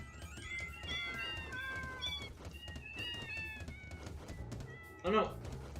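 Cartoonish cats in the video game Deltarune meowing repeatedly in a rapid string of high chirpy calls, then one louder drawn-out meow near the end, over a player talking.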